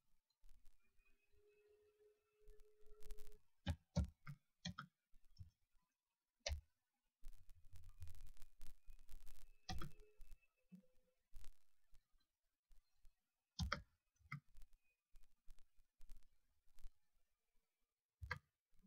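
A computer mouse gives sharp, isolated clicks in scattered clusters during clicking and dragging, faint and close in an otherwise quiet room.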